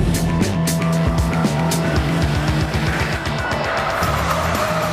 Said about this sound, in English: This is the first time for most of them they've ever been on a race circuit in a car.